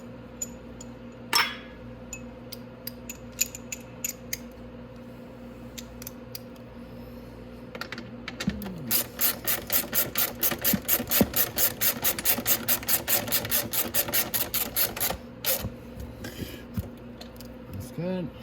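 A socket wrench works the sprockets and chain of a Venom Grizzly. A few scattered metallic clicks give way to a long, steady run of rapid ratcheting clicks up close, then it stops.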